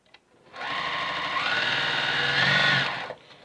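JUKI TL2010Q sewing machine stitching at a steady speed, a close, even mechanical whir that starts up, runs for about two and a half seconds with a slight rise in pitch, then stops.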